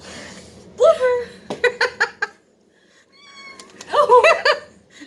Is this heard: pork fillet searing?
no